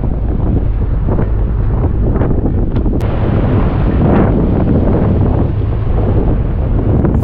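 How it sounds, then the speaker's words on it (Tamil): Strong sea wind buffets the microphone aboard a fishing boat, a loud continuous roar with gusting low rumble and faint wave and engine noise beneath, no talking. "ரெண்டு நாளாக கடலில் காற்று இப்படி தான் கிடக்கு"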